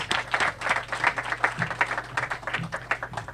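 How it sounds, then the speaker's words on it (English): A seated audience at an auditorium inauguration applauds a presidential guest, with moderate, fairly sparse clapping in uneven rhythm over a low steady hum from the room. "Your big round of applause, please."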